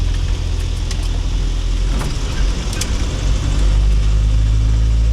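A Land Rover drives along a road, its engine a steady low drone with constant road rumble, loud and close from inside the cabin.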